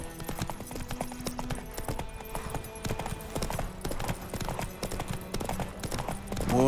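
Horse hooves clip-clopping at a steady gallop in The Witcher 3, rhythmic close hoofbeats with faint tack jingles and a brief snort or whinny toward the end.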